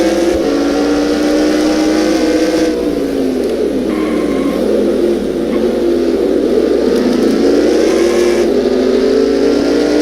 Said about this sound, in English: You just hear the tires squealing